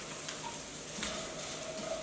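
Shredded carrots fry in a pan for cauliflower fried rice, giving a steady, moderate sizzle with a few soft clicks of stirring.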